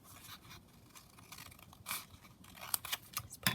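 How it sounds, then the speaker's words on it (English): Scissors trim paper for a skinny flip-down booklet, giving quiet, irregular snips and crisp paper scrapes close by that get busier toward the end. No one talks. "I'm just going to trim this down sort of here"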